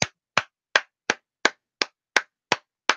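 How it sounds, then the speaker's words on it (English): Nine sharp, evenly spaced claps ring out, each one crisp and close, as a single person slowly applauds on their own, with no voices or other sounds in between. "the round of applause for Michael B. Jordan"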